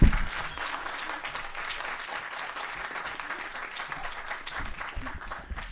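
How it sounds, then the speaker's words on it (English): An audience at the 2023 New Hampshire Liberty Forum claps to welcome a speaker. The applause is dense and sustained, starting with a loud burst and then holding steady before easing slightly. "please give a huge round of applause and a warm welcome"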